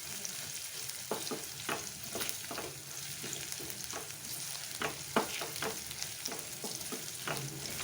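Shredded cabbage fries with ginger garlic paste in a pan: a continuous soft sizzle broken by irregular scraping stirs of a spoon, close and fairly quiet, with no one talking.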